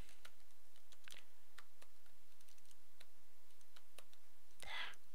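Keys clack on a computer keyboard while a PCB layout is edited in KiCad PCBnew, a sparse run of soft, separate taps ending in a louder burst near the end, with no talk.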